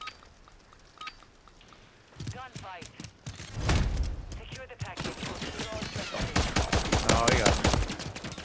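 Gunfire in Modern Warfare III, rapid bursts of shots that build from sparse pops to dense volleys, with a voice talking over parts of the fighting.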